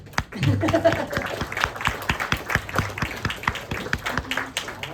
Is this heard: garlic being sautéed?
no